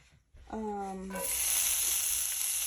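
Scrambled eggs sizzle steadily in a hot cast iron skillet, a loud, continuous frying hiss that swells up and holds after a brief moment of talking.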